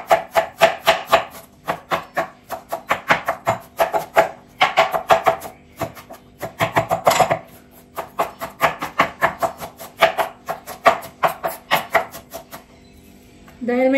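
A knife chopping Chinese cabbage on a board, rapid rhythmic close thuds in bursts separated by short pauses, crisp and fairly loud, with no voices.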